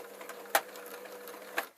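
A sewing machine stitches an oilcloth PVC tote bag, a steady low mechanical whir with two sharp clicks, fairly quiet and with no talking.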